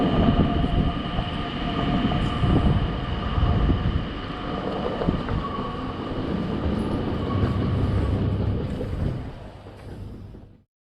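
Steady rumble of a slow train in motion heard from inside a carriage, travelling between Amsterdam and Brussels, with a constant hum and occasional rattles and clacks, ending abruptly.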